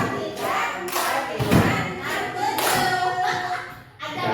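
Several loud group claps from a classroom tepuk 7 rhythm game, landing as broad thudding bursts at uneven intervals, close by, with a murmur of voices around them.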